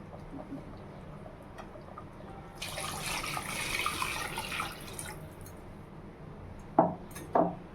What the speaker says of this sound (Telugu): సో నేను ఇప్పుడు వాటర్ వేస్తున్నాను.